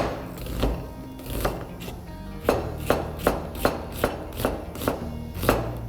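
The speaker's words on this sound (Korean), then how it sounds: "양파는 얇게 채 썰어서 준비하겠습니다." A knife thinly slices an onion on a cutting board, about a dozen crisp chops in a quickening, regular rhythm, close and clear with no talking.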